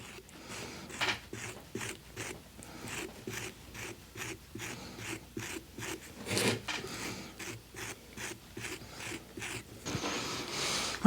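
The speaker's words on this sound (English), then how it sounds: "And now scrape the outside." A tool scrapes the outside wall of a hand-built coil clay pot in a quick series of rasping strokes, close but fairly quiet, with no voices.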